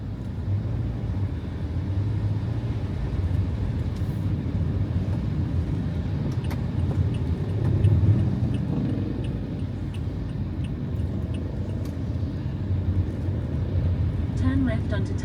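A car drives along a rain-soaked suburban road in New Zealand with a constant low engine and tyre rumble and a faint wet hiss from the tyres. The noise stays steady from start to finish.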